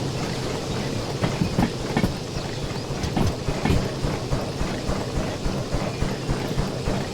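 A steam locomotive in the train simulator game Derail Valley rolls along the rails with a continuous rumble and a rhythmic clickety-clack of wheels over track joints, fairly close and steady.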